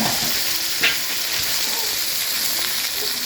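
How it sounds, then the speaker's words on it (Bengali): Eggplant pieces frying lightly in hot oil, a steady bright sizzle filling the space with a few small pops and crackles, no voices. "হালকা করে ভেজে নেব।"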